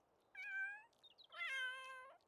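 Two drawn-out kitten meows from a cat in The Sims 3, separated by a short pause, close and clear over quiet background hiss.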